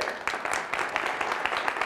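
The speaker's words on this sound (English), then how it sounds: "Give Howie a nice round of applause." Brief burst of audience clapping at a magic show as a volunteer stands up, dense and fairly close, lasting under two seconds without talk.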